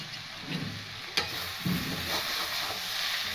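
Cabbage and egg bhujia sizzles in a pan while a spatula stirs it, a close steady frying hiss broken by a couple of sharp scrapes and knocks against the pan.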